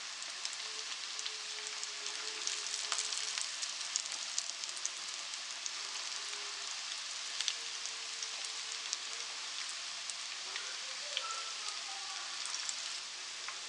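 Moong dal pakoras fry gently in oil over low heat, giving a soft, even crackling sizzle with scattered pops that continues steadily up close.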